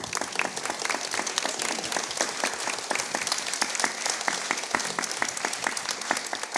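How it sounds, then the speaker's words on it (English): Sustained audience applause at an arts and culture event in Venice's Palazzo Diedo, a dense patter of many hands clapping evenly throughout. "Big round of applause for Primavera"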